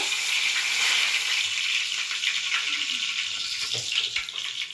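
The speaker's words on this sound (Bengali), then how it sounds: "কড়াইয়ে তেল দিয়ে দিয়েছি। এখন আমি কড়াইয়ে দিয়ে দেবো তেজপাতা।" A bay leaf sizzles in hot oil in a kadai, a bright, even hiss close by with faint crackles running through it and no voices.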